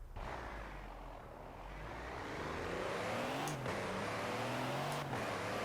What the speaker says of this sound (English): This Iron Knight truck.